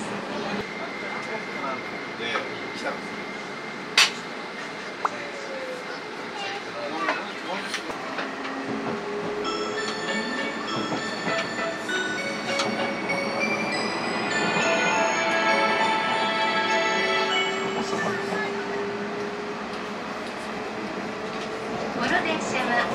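Tobu Spacia X limited express train running, a steady rumble and rolling rattle of the carriage with occasional clunks, heard from inside the car under a continuous hum, with a voice speaking in the clip.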